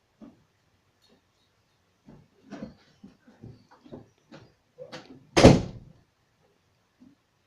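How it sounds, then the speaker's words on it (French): A bedroom door slams shut in a draft from an open window, one sharp loud bang after a stretch of faint scattered knocks and rustles in an otherwise quiet room. "ma porte a claqué à cause de ma fenêtre ouverte"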